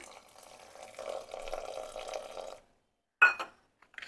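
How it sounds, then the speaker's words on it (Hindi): Water pours steadily into a pot of mustard greens and turnip for saag for a couple of seconds, then stops; after a pause comes a short splash or clatter and a few faint knocks. "इसमें थोड़ा सा पानी डाल देना है"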